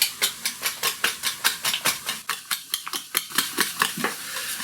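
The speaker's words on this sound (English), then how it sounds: "Let's give that onions a quick stir." Onions are stirred in a pan with a steady run of about twenty quick scraping strokes of utensil against metal over a soft background sizzle, close and fairly loud, with no talking.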